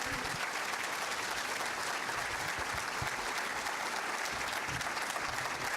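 A conference audience gives a big round of applause, an even, dense roar of many hands clapping that holds steady at moderate volume from start to finish.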